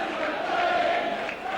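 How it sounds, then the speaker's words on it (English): A rugby league crowd at a 1997 St Helens versus Warrington match chants and shouts that Saints are going to Wembley, a dense, distant roar of many voices that is sustained throughout. "Crowd shouting that Saints are going to Wembley."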